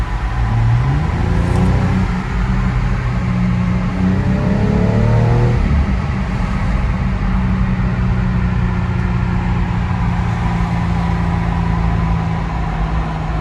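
A BMW 135i F20 accelerating hard through a tunnel, its engine climbing in pitch with quick gear shifts, then settling into a loud, steady drone with heavy rumbling echo.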